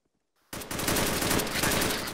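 Sustained burst of automatic rifle fire in Arma 3, a military shooter, erupting suddenly after a brief near-silence and continuing as rapid, loud, close gunshots for about two seconds.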